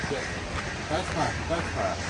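A dog barks in short bursts on the grounds of a French château, near a flight of steps outdoors. Several quick yips and woofs come at moderate distance over a steady background murmur.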